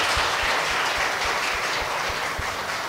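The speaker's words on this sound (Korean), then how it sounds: "우리 한번 일어날 때 큰 박수로 한번" A church congregation breaks into loud, sustained applause, dense clapping that fills the room evenly from start to finish with no voices rising above it.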